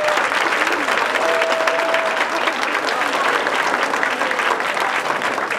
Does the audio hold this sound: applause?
yes